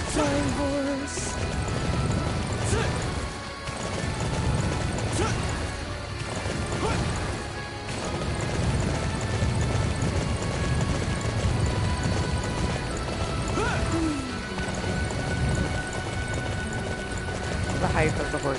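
A horse galloping and leaping in the action game Dynasty Warriors: continuous hoofbeats amid crowded game noise, with a few sharp impacts, a whinny and a person talking over it.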